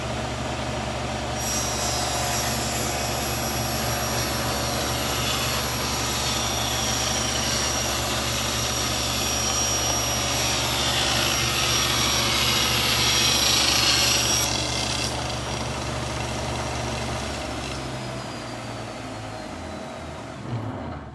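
A table saw runs with a steady loud hum and whine while cutting scrap wood, with a brighter rasping cut through the middle, then the blade spins down near the end.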